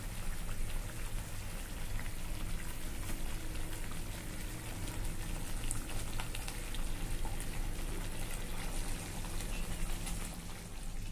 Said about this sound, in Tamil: நல்லா அந்த புளி காய்ச்சல் வந்து எண்ணெய் பிரிஞ்சு வந்துடுச்சு